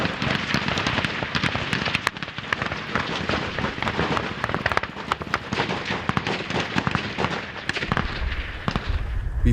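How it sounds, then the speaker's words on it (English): Sustained combat gunfire during a faltering counterattack, involving Sudanese troops: a dense, continuous wall of sharp cracks and bursts, loud and overlapping, with no pauses over nearly ten seconds. "An attempt at a counterattack faltered under a wall of gunfire."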